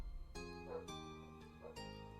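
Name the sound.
dog barking outside a house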